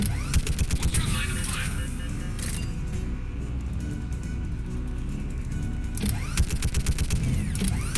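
Sustained automatic gunfire in Mass Effect 3, fast rattling bursts at the start and again near the end, a quieter stretch of game noise between them, with shouted voices in the midst of combat.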